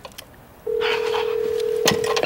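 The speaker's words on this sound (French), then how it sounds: "Le téléphone sonne." A telephone rings with a single steady electronic tone that holds for about a second and a half, loud and close, with faint background noise around it.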